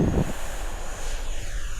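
E-flite F-16 Thunderbirds V2 70mm EDF RC jet taking off from a new runway, a steady loud ducted-fan whoosh with wind buffeting the microphone throughout.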